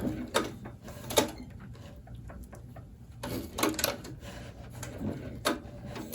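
Cobra leather sewing machine stitching an elephant skin gun holster, giving short bursts of mechanical whirring and clicking separated by quieter pauses, close and fairly soft.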